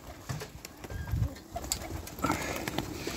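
Pigeons in a loft give low cooing and soft rustling, with scattered clicks and scuffs close by and no voices.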